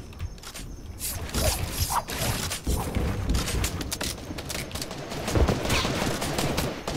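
Gunfire in a Fortnite match, rapid bursts of shots and mechanical clicks crackling through a busy, continuous game soundscape at moderate volume.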